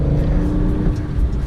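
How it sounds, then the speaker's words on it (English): A Porsche Panamera accelerating hard, its engine note rising and roaring loudly and close throughout with a steady, dense drone. "that Panamera's going for it"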